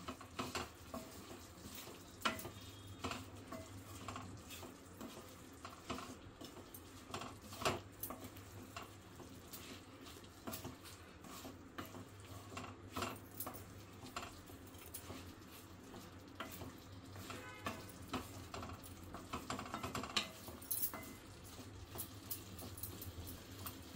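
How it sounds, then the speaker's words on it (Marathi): Spoon stirring ridge gourd (dodka) sabzi in a pan after crushed peanuts go in, giving repeated scraping clinks and soft sizzling over a steady low hum, close and fairly quiet throughout. "आता आपण दाण्याचं कूट घालूया त्याच्यामध्ये। चांगले मिक्स करायचं आहे।"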